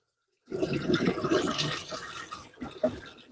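Rinse water draining out of a cation-anion demineralization unit after the water pump is switched off, a steady splashing, gurgling flow that starts abruptly and continues close by with some irregular bursts.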